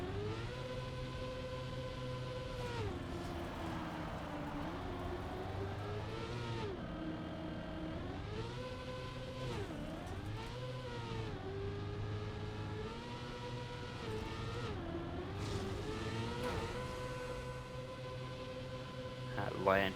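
Video game car engine revving and shifting pitch as it drives a custom stunt map, steady and close throughout, with rising and falling revs for twenty seconds.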